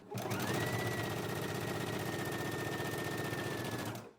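A sewing machine stitches a pant waistband hem in one continuous run of about four seconds. Its rapid, even whirr is close and steady, starting and stopping cleanly with no voices.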